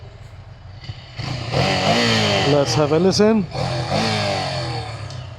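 A Ducati Scrambler 800 motorcycle engine runs steadily at idle, a mid-level mechanical hum carrying underneath someone speaking close by.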